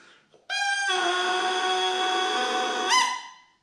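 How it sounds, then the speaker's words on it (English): A bassoon reed blown by itself, without the instrument, gives a thin, buzzy, squawking tone that holds steady for about three seconds, rises in pitch briefly near the end, then stops. "I blow down something called a reed, which is a very funny little thing that sticks on the end of the instrument and sounds like this by itself"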